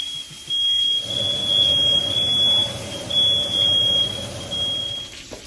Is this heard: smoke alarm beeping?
yes